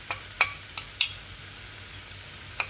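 Spices are stirred into a frying pan for egg gravy made with minimal oil, giving a soft sizzle under several sharp metallic scrapes and taps of a utensil against the pan.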